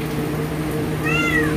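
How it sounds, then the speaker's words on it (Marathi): A hungry house cat gives a single short, clear meow near the end, close by, over faint background hum. "इथं आमची मांजर बघा"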